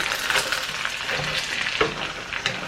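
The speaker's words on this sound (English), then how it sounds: "Oh, stir it around. You don't want to make it scrambled eggs." Soft continuous sizzle with light scraping as carbonara egg sauce is stirred around a hot pan, close and even throughout with no talking.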